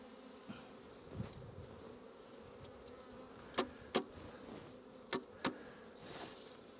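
Honey bees hum softly at a hive being supered in cold weather, a faint continuous buzz with a few close, sharp buzzing passes as individual bees fly near.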